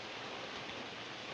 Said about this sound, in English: Oh, boy, look at that rain.